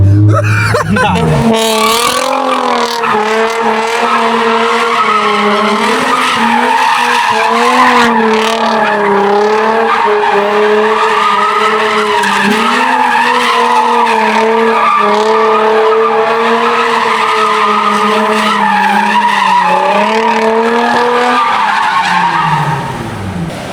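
A Ford Mustang drifts with its tires skidding and squealing in a loud, sustained, wavering screech that holds for over twenty seconds before cutting off, with engine roar underneath.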